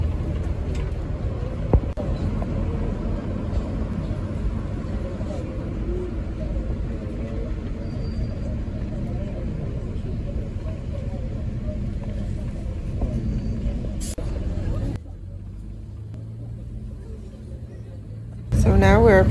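A tourist bus drives through Zaragoza toward a roundabout, its low engine rumble and road noise steady beneath continuous talk before dropping to a quieter hum near the end.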